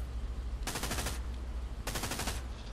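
A tank's driver-mounted machine gun fires in the World War II game Hell Let Loose, with two rapid bursts of close, loud automatic fire separated by a short pause.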